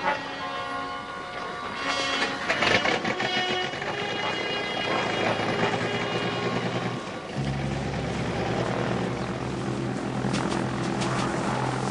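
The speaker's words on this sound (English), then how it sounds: "the plane's warming up" An airplane engine warming up on the ground, a steady droning propeller-like roar with tonal hum that shifts in pitch partway through, heard at moderate distance with no talk.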